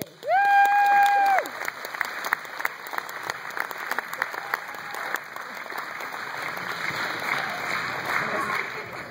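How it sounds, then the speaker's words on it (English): Audience applause after a camp skit: a dense wash of many clapping hands that starts just after a short sustained tone and carries on steadily for several seconds, with voices faintly mixed in. "The audience applauded as they rolled off the stage."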